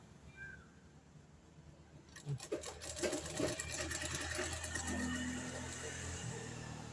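Sewing machine stitching the folded hem of a nightie, starting after a quiet stretch and then running as a fast, buzzing mechanical rattle at moderate level, with faint background sounds before it starts.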